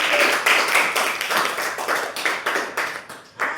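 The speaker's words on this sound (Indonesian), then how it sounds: "aplaus untuk kelompok" A small group claps in a classroom, a fairly loud, brisk burst of hand claps close by, uneven and thinning toward the end.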